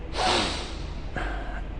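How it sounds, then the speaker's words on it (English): Two forceful sniffs drawn sharply in through the nose, the first long and strong, the second shorter, heard close and alone. "sniff as strongly as you can"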